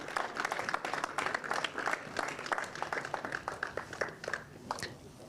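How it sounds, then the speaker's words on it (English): Applause at a kart racing event at PF International honours young Mini 60 drivers: dense, moderately loud clapping rattles on steadily for several seconds, with scattered sharper hand claps standing out. "One big final round of applause, please, for your Mini 60 under 10s"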